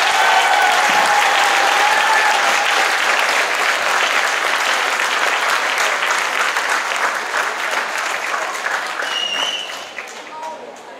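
Loud, sustained applause and cheering from a concert crowd at the Jyrää event in Heinola as the band takes the stage, gradually tapering off near the end.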